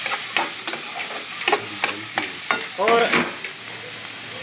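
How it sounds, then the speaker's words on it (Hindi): Potatoes sauté in a pan with salt and spices, a light sizzle under repeated scrapes and taps of a spoon against the pan. Someone says a single word partway through. "फिर मैं आलू इसमें डाल दूंगी और इसको थोड़ा सा सोते कर लूँ"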